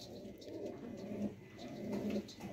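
A male Salare golden pigeon of Lahore breeding coos in low, throaty rolling phrases, steady and close with faint background noise.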